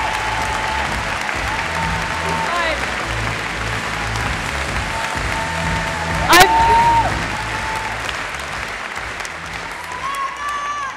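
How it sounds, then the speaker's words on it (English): Audience applause filling a hall at MineCon 2012, the Minecraft convention, loud and sustained for about eleven seconds, with cheers and a few high whistles rising over the clapping. "let's give Marcus Notch a huge round of applause because he wanted you guys to have this"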